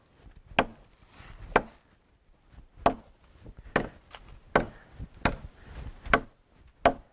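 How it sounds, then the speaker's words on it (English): Repeated heavy chops of a knife blade biting into solid tree wood, about nine sharp impacts at an irregular, steady pace, close and loud with brief pauses between strikes. "You can hear it's solid and the pieces and chips are flying."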